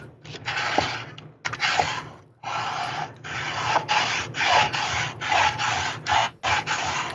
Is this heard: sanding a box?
yes